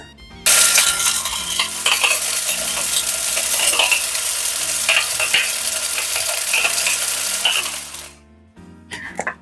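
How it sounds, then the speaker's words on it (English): Jamaican sweet potato pudding batter is mixed in a bowl, giving a loud, dense, continuous churning and clattering close up that stops abruptly near the end, followed by a few faint knocks. "So I'm just going to mix for a little bit more guys"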